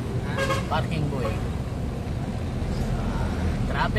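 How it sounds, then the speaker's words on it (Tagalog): Road traffic in Alaminos heard from inside a truck: steady engine and road rumble with a few horn toots, while people chat over it. "Traffic sa Alaminos."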